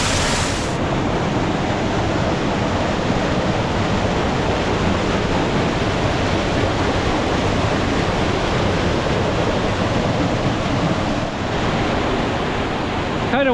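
A waterfall swollen by historic rains roars in a loud, continuous broadband wash, steady and close throughout with no talk.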